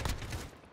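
AK-47 fired in the Call of Duty Modern Warfare Gunfight mode, a short loud burst of rapid gunshots with a quick decay.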